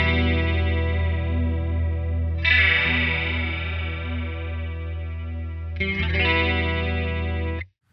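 Guitar chords run through a Walrus Audio Julia analog chorus pedal ring out with a lush, wavering chorus shimmer, restruck twice over a long sustain before cutting off, close and steady without any voices.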